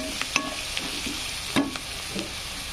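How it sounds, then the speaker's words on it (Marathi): Whole spices and garam masala sizzling in oil in a pan for masala pulao, a steady soft crackle with a few sharp scraping stir strokes of a spoon, close up and with no voices. "मसाले पण फ्राय होऊ द्यायचे आहेत"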